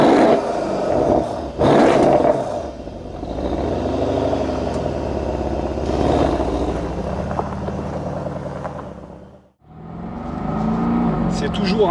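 A 2016 Mercedes SL 63 AMG V8 engine roars loudly through rising and falling revs, with a sharp throttle burst early on, a sudden drop to near silence, then a renewed growl.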